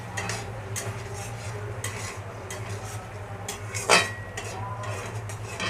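Fried potatoes being sautéed in a spice and yogurt masala, a steady soft sizzle under intermittent scraping and clinks of a spatula in the pan, with a low kitchen hum beneath and one louder knock near the end.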